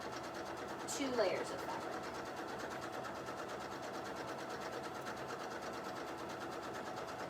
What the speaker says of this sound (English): So that top piece I'm sewing through the seam fold over and the outside fabrics.